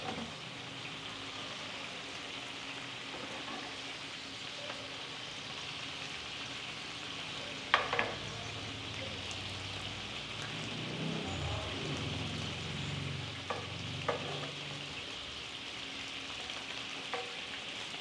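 Teriyaki sauce bubbles and sizzles in a pan as it caramelizes, a steady crackling hiss with a few sharper pops and a stretch of louder spattering midway, fairly quiet overall with no talking.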